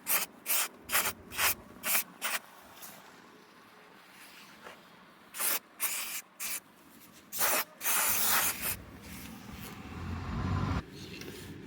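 Brake cleaner is sprayed onto a car body during rust repair on a Mercedes W126, in a series of short, loud hissing bursts with pauses, followed by longer continuous sprays close by, with no talking.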